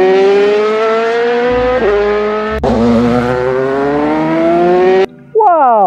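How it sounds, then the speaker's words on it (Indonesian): A toy racing motorcycle gives off a loud electronic engine tone that climbs steadily in pitch like revving. The tone resets a couple of times, then cuts out briefly near the end before starting up again. "Wih, keluarlah motor balap"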